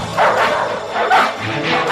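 Several dogs bark loudly and close by in a couple of rough, overlapping bursts over steady background noise.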